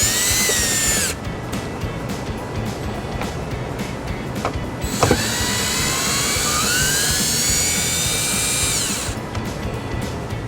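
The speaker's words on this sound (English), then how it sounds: "I'll just take our electric drill, an 8mm socket, unscrew these." A close electric drill with an 8mm socket, unscrewing screws on a 2016 Ford Escape, whirs in two long high-pitched bursts, its pitch sliding as it spins, with a short quieter pause between them.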